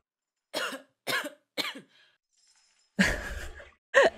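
A woman coughs three times in a steady rhythm in the video game Vambrace: Cold Soul, then after a pause a harsher burst of coughing follows, close and clear.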